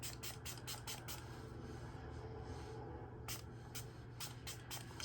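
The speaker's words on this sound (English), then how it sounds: "I'm going to take the Milani setting spray" Milani setting spray misted onto a face: rapid bursts of short, close hissing sprays, several in quick succession, a pause, then another run of quick spritzes.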